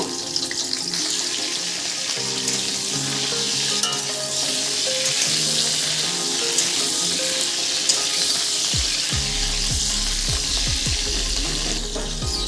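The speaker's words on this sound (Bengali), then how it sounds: "এবারে এই তেলের মধ্যে ফুলকপিগুলো আমি হালকা লাল করে ভেজে নেব" Cauliflower florets frying in hot oil until lightly browned, a steady, close, dense sizzle that crackles throughout, with a few low knocks near the end and no talking over it.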